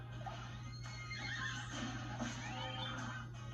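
A horse whinnies in the video game Miitopia over a steady electronic hum and game background noise, a drawn-out neigh lasting a few seconds.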